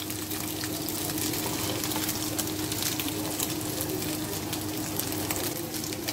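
Chicken pieces frying in a pan for a pasta dish, giving a steady, dense sizzle that holds at an even level throughout with no talking.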